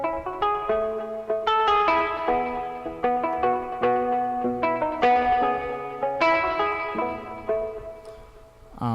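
Electric guitar playing a muddy soca-style riff run through a delay effect, plucked notes ringing out with trailing repeats, steady and fairly loud with no talking.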